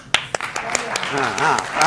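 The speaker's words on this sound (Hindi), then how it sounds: "तालियां" Scattered claps from a studio audience at a televised political debate, a few sharp separate hand claps at first, then loosely overlapping under a speaking voice.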